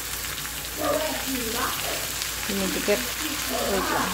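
Fish sizzles steadily in hot oil in a pan during home cooking, a continuous crackling hiss with brief bursts, while someone talks over it.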